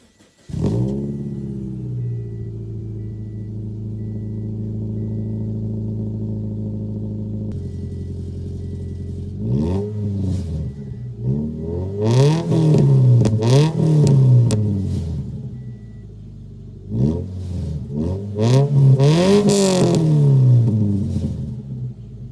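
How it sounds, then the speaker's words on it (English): A 2007 Subaru Impreza 2.5i with a cut-off muffler idles with a steady low rumble, then revs hard in two loud bursts, its raspy exhaust climbing and falling with each blip, close by and with no talking. "I never showed a startup of the car or a sound clip having a cut-off muffler"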